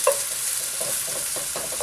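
Chicken yakisoba stir-frying with carrots and broccoli in a hot pan, a continuous bright sizzle with soft scraping stirs and little pops, close and steady with no talking.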